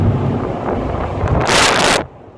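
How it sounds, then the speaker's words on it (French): Strong wind roars over the open cabin of a Mazda MX5 NBFL convertible while it is driven, a steady rushing blast that swells sharply near the end and then suddenly drops to a quieter hum. "Je pense qu'on va entendre quand même beaucoup de vent sur la vidéo."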